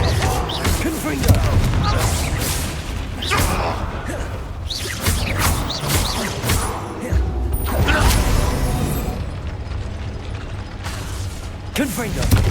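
Confringo explosion spells blasting in the Hogwarts Legacy video game, several booming bursts and whooshes with mechanical clatter, spread unevenly across the stretch with a voice calling out over them.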